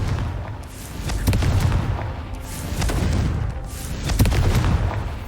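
Confringo blasting spell in Hogwarts Legacy, a series of booming fiery blasts with crackling bursts rising in three waves, loud and close amid combat noise.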